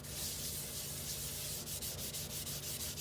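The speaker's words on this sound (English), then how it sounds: "I'm just going to scrub it" Steady abrasive scrubbing of a kitchen sink with borax near the drain, a close, continuous gritty rubbing with quick back-and-forth strokes toward the end, no talking.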